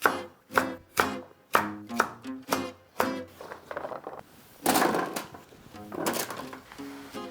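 A knife chops vegetables for a roast dinner on a cutting board, sharp distinct strokes in an irregular rhythm, a few quick cuts then spaced ones, close and clear.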